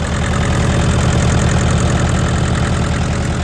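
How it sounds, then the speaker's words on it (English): A small tractor engine idles steadily and loudly at close range, a continuous low rhythmic chugging with no voices over it. "This thing is a sweet little tractor."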